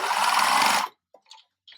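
A sewing machine stitches the lower crotch curve of a pair of culottes in one steady burst of under a second, then stops, followed by a couple of faint small clicks.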